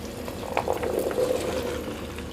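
Chickpeas go into a pan of masala cooking in oil, giving a steady sizzling, bubbling simmer with a few soft splashy clatters as they drop in, close and fairly loud, no talking.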